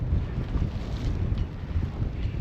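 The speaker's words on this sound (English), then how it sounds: "it's nice and cool out here with a nice breeze" Breeze buffets a sailboat off Mount Desert Island, Maine, a steady loud rumbling wind roar over the microphone with a faint water wash beneath, no talking.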